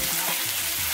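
Cut potatoes frying with onions in a hot pan, giving a brief, dense, steady sizzle close by with no voices.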